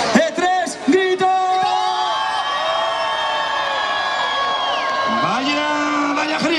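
A crowd of voices lets out a loud, sustained collective shout lasting several seconds, preceded by a few short calls, at an outdoor orchestra performance during a youth festival in Lestedo.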